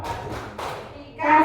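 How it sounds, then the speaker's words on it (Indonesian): A group of teachers at an Indonesian school training session claps a short rhythmic 'tepuk wow' pattern, several sharp hand-clap bursts in sequence, followed by voices and cheering at the end. "Sekali lagi kasih tepuk wow untuk Bu Dian. Tepuk wow."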